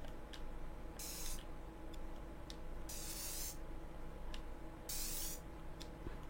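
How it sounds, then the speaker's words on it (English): Spray paint applied in a video game, laying flesh tone onto parts: three short hissing spray bursts about two seconds apart over a steady low background hum. "Put the spray paint on."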